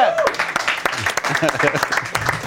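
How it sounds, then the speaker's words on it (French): Audience applause at a coaching show, scattered clapping layered under a lively host's talking and other voices, fairly loud and close. "bravo, on peut les applaudir s'il vous plaît"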